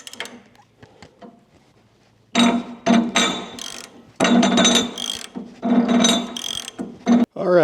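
Ratchet wrench tightening a bolt on a Kuhn hay implement, sounding as loud bursts of rapid clicking, several strokes in quick succession after a quiet start, close and with no talking.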